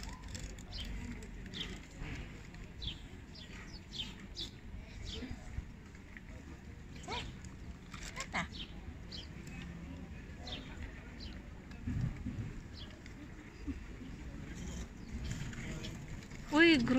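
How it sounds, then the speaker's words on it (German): Pigeons coo softly at a distance through a steady low background, with scattered bird calls and brief voices talking over them. "Und jetzt kommt die große Taube, wo krank ist."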